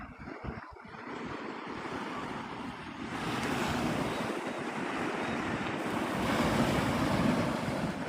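Surf rolls onto Navarre Beach, Florida at sunrise, a steady broad wash of breaking waves that grows fuller over several seconds, with wind buffeting the microphone.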